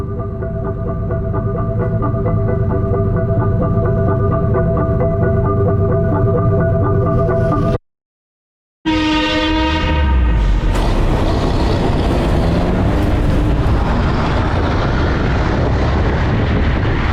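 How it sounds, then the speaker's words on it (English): City air raid alarm sirens blare in a loud, steady, sustained drone, cut off by a brief moment of silence, then return with fading wails over a broad, rushing outdoor wash. "Sirènes d'alarme de la ville là, qui sont en train de résonner, ça veut dire qu'il y a un risque de bombardement."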